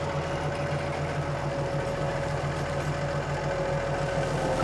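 A tractor pulls a sward lifter with a massive chisel point and roller through grassland soil. A steady, close engine drone with a constant low hum runs throughout.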